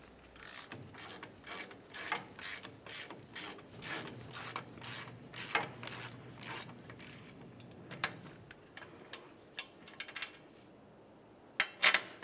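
A ratchet loosens a brake caliper bolt on a 1994-2002 Dodge Ram 2500, about twenty quick clicking strokes in a steady rhythm that thin out near the end, close and quiet with no talking.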